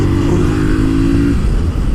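A 2017 Harley-Davidson Street Rod 750 engine roars loudly up close as the throttle opens, a steady rising drone that breaks into a rougher, grittier rumble partway through.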